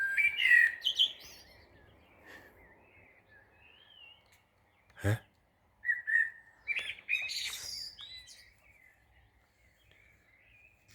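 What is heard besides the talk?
birds singing before dawn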